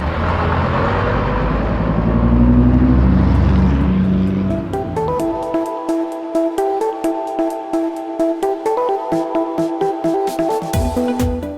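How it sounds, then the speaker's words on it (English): A school bus engine rumbles nearby with a broad roar that fades into a steady, pulsing idle with tonal whine, heard alone. "School bus."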